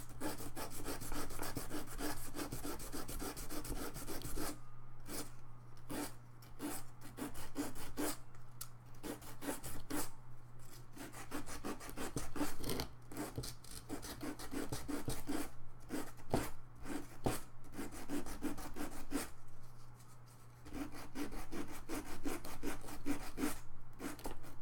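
Sandpaper rubbing a small craft bead by hand, a steady close scratchy rasp in repeated back-and-forth strokes with brief pauses, continuous and fairly loud.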